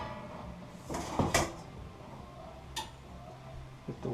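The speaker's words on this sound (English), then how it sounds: "You can turn the oven off, and then just slide the tray back in." A wire tray sliding back into a gas oven, a few brief metallic scrapes and clacks near the middle and a soft knock at the end, against a quiet room.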